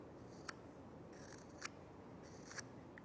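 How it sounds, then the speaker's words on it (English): A knife whittling a stick with a thumb push cut, rounding the top into a half-ball, makes a few sharp, close scraping snicks spaced about a second apart against a quiet background. "You notice I'm using what's called a thumb push cut."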